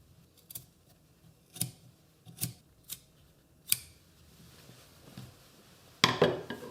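Sharp scissors snipping through the wool facing and lapel seam allowance of a wedding suit jacket, several separate close crisp cuts with pauses between them, then a louder rustling handling sound at the end, no talking.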